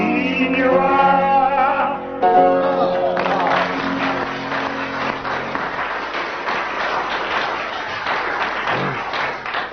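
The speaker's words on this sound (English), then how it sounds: "the audience applauded for 25 seconds" A studio audience at a 1981 radio comedy panel show bursts into applause after a voice speaks, and the dense, steady clapping carries on strongly for several seconds.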